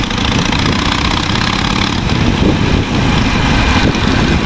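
A Harley-Davidson Iron 883 cruiser motorcycle runs close and loud, its deep engine rumble throbbing steadily throughout with slight rises in revs and no voices.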